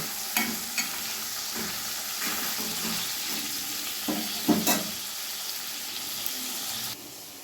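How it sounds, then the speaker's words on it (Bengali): Paneer pieces fry in a pan, giving a loud steady sizzle close by, punctuated by several sharp clicks and scrapes of a utensil against the pan, with no speech. "একই রকমভাবে অপর পিঠটা লাল লাল করে একটু ভেজে নেব।"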